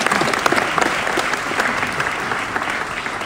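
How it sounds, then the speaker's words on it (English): A hall full of people claps for a Northwestern University in Qatar graduation ceremony, loud, even, continuous applause with a few sharper claps poking out. "Now you may applaud."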